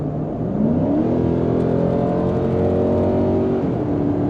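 A 2021 Nissan Titan Pro-4X pickup's 5.6-litre V8 revs up with a rising, throaty roar, holds a strong steady drone, then eases slightly; loud and close, no voices.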